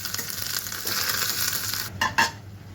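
Curry leaves sizzle and crackle in hot oil for a chole masala tadka, a steady frying hiss over stirring, ending in a couple of brief louder pops and clinks.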